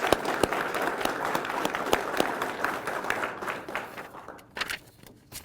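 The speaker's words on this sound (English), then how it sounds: "So a round of applause for executive staff," Audience at a law enforcement academy graduation applauds the executive staff, with steady crowd clapping and some sharp individual claps that taper off toward the end.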